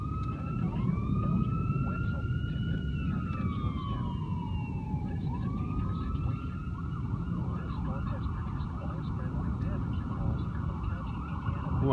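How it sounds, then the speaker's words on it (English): A wailing ambulance siren rises and falls in long sweeps, somewhat distant and steady, over a low background hum during a thunderstorm in Van Wert, Ohio. "Oh, I hear an ambulance."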